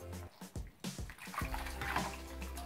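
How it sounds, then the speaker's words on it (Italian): Homemade ricotta is poured out of a Thermomix bowl and filtered through its basket, giving soft, faint splashes and trickling liquid in short bursts. "Andiamo ad aprire il boccale e andiamo a filtrare per una volta"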